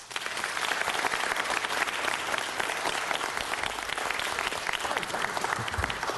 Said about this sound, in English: give one more round of applause to all of the people behind me